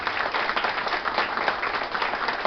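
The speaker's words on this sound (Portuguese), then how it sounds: "uma salva de palmas" Audience at an award ceremony for a contest applauds a prize winner: a steady, even wash of clapping from a crowd, moderately quiet and uninterrupted, with no voices over it.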